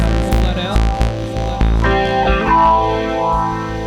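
Noisy looped guitar drenched in distortion and chorus effects, dense and loud, with strummed attacks repeating then smearing into a throbbing, warbling wash with no voices.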